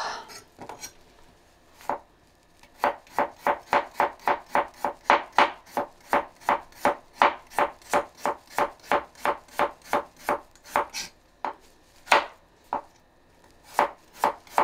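A knife chops carrots into thin slices on a cutting board, giving a quick, regular run of crisp, close taps with a few pauses at the start and end and no talking.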